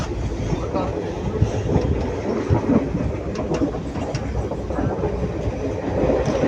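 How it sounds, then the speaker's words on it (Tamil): A slow Ernakulam Intercity train runs through forest on the Dharmapuri to Salem line, producing a steady, loud rumble with rhythmic wheel clatter that carries the whole way through without a break. "ஆனால் இது கொஞ்சம் ட்ரெயின் ஸ்லோ தாங்க"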